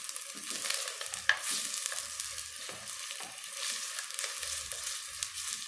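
Garlic cloves, one large and one small, fry in a pan with a continuous crackling sizzle, steady and close, broken by a few sharp pops and stirring scrapes, with no talk.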